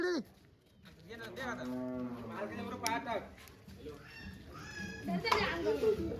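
Bullocks low with drawn-out moos close by, while children shout and chatter in the background, at a village Diwali Padwa celebration.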